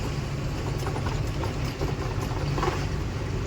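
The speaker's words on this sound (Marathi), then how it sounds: "ट्रॅक्टरवाला जोरात आलाय." A tractor passing on a road, a loud, continuous low engine rumble and roar that fills the whole stretch without any talk.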